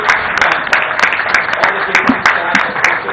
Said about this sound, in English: Another round of applause for Huda Saab, the chairperson KPP